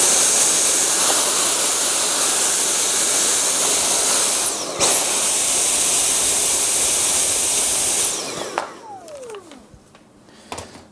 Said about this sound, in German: dann auch am besten wieder mit dem Staubsauger hergehen